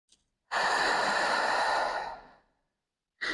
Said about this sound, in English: Deep belly breath in.